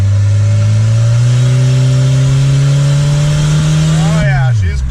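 A car with an automatic transmission revs hard as the accelerator is floored, its engine note climbing steadily and loud for about four seconds before dropping off abruptly, with a voice audible over it.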